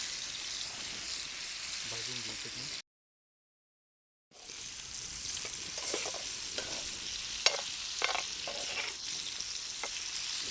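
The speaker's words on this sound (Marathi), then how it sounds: "आपण आता सगळे कारले असे परतून घेऊ" Bitter gourd slices stir-fried in hot oil on a tawa, a continuous close sizzle with scraping and stirring clatter, broken by a brief silent gap, then sharp spatula knocks against the pan.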